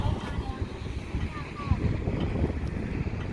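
Wind blows outdoors in rainy weather in Iceland, a steady gusty rush buffeting the microphone, with a voice talking over it.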